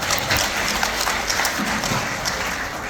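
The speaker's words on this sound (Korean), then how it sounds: "다시 한번 큰 박수 부탁드립니다" Audience at a Korean finance lecture gives a sustained round of applause, dense steady clapping from a room full of people, loud and continuous throughout.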